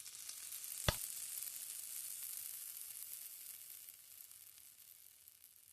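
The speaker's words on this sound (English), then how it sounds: "Use the tongs to mix the mirepoix with the fond at the bottom." Mirepoix of diced vegetables sizzles steadily in a pan in a cooking video game, with a brief sharp knock early on as tongs stir it; the frying hiss stays continuous and moderately loud throughout, with no voices.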